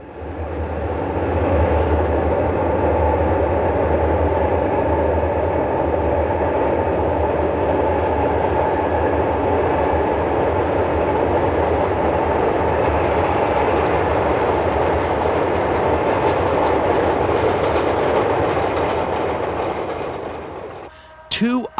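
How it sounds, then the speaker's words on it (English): A gravel train rumbles steadily along the Alaska Railroad tracks near Palmer for a long stretch, a loud, continuous low roar with faint clatter, easing off briefly at the very end. "A gravel train is on its final run of the day near Palmer."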